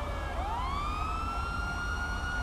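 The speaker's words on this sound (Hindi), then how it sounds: "ये सायरन की आवाज़ ना" A police siren in the video game GTA 5 wails and rises steadily in pitch, loud and continuous over a low engine rumble.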